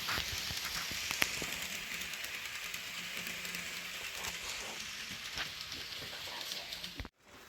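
A model SP&S Alco FA diesel locomotive rumbles steadily along a track with a continuous whirring hiss and faint clicks, stopping abruptly near the end.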